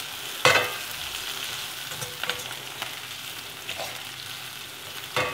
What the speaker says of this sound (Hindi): अब जो है इसके साथ ही मैंने वेजिटेबल्स को ऐड कर दी है।